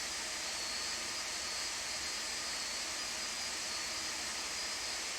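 Jet engines of a Boeing 747-200 taxiing in a flight simulator, a steady, loud broadband roar with a high whine held evenly throughout, no talk.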